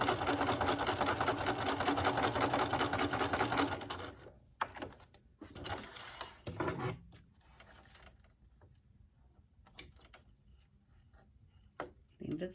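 A sewing machine stitching lace sleeves on a bridal gown runs in a fast, steady mechanical whir for about four seconds, then stops, leaving faint handling clicks and rustles of fabric.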